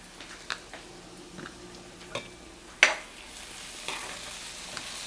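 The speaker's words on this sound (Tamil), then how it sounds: "இப்போ வெங்காயம் நல்லா வதங்கியாச்சு." Salted onions sauté in a pan for Sri Lankan seeni sambol with a soft, quiet sizzle, punctuated by a few sharp clicks and taps of a spoon against the pan.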